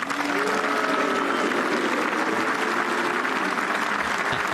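A golf gallery on the tee at the Open Championship at Carnoustie gives a loud, sustained crowd roar for Matt Kuchar, a drawn-out low collective call over applause.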